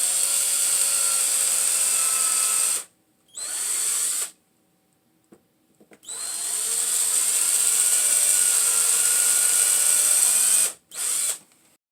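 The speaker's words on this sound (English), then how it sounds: "Now we can pre-drill the holes." An electric drill pre-drilling screw holes for a cabinet latch whirs loudly in long steady bursts, stopping briefly between runs, close up with no talking.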